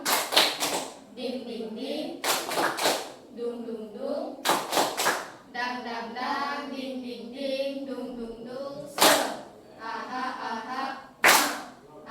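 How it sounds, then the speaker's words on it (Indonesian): Classroom group clap for spirit: sharp bursts of many hands clapping in unison recur in short rhythmic sets, loud and near, with chanted voices and a teacher's talk between the bursts. "tepuk semangat"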